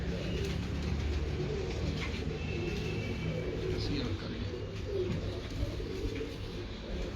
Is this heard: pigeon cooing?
yes